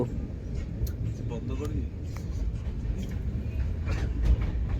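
An express train runs at speed between Kolkata and Vizag, heard from inside the carriage as a constant low rumble with intermittent rattles and clacks. Voices are faintly present.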